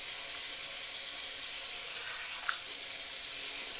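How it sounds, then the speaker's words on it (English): Cold tap water runs steadily into a sink while a face is rinsed after a wet shave, a soft continuous hiss at low level with one brief splash midway. "Now I'm going to use some cold water, rinse my face off."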